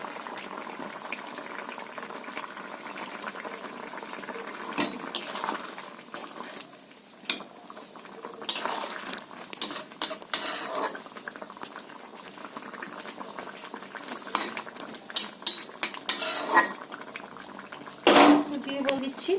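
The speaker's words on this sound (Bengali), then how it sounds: "দিয়ে দিচ্ছি যাতে মাছটা সেদ্ধ হয়ে যায়।" Raw hilsa fish simmering in a potato and eggplant curry gives a continuous bubbling boil, with intermittent clinks of utensils and pots and louder bursts scattered through a fairly long stretch.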